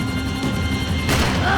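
Gunfire in the video game Max Payne 3 comes as a dense, rapid burst of shots. A louder crash-like blast near the end stands over a busy, loud background of game sound.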